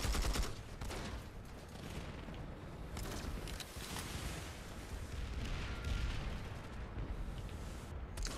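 Gunfire in the Planetside 2 video game, a dense, continuous barrage of shots and blasts that runs the whole stretch at steady moderate loudness, with no clear speech.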